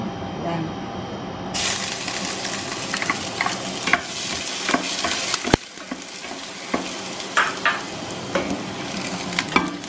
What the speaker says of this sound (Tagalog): Atin na pong igigisa yung mga ingredients natin ng mga veggies